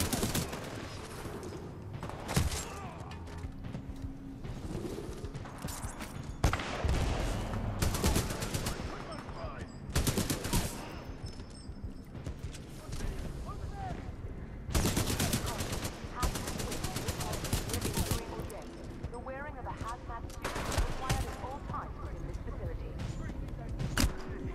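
Gunfire in the shooter Titanfall 2 cracks out in loud bursts and rapid automatic volleys, repeating with short pauses throughout a long firefight, while a person talks at times over the shooting.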